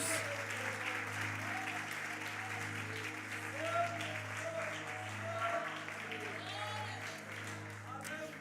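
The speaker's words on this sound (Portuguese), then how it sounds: "Pode aplaudir, Ele merece." Sustained applause from a church congregation fills the space, steady and even throughout, with a few voices and cheers rising over the clapping.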